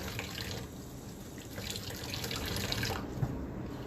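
A kitchen tap runs steadily while raw chicken is rinsed under it, a continuous close, soft splashing and hiss of water in a sink, with no talk.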